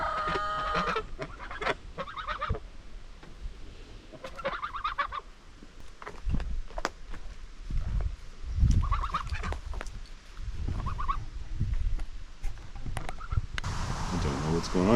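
Geese honk and chickens cluck around a homestead coop in irregular bursts, near and fairly loud, with people talking in between.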